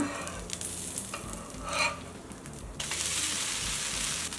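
A soft set dosa with ghee is flipped on a hot pan. Light scraping and a low, steady sizzle jump to a brighter, louder frying hiss right after the turn, heard up close without talk.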